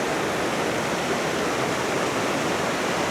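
Rushing river water in a Costa Rican forest roars as a steady, loud, continuous broadband wash, unbroken and close, with no voices.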